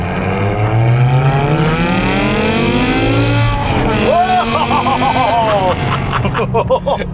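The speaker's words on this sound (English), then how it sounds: "The engine, exhaust note are also fantastic." A BMW M5 engine and exhaust pulling hard, with a rising tone that breaks at an aggressive gear change and climbs again, loud and continuous inside the cabin with people talking over it.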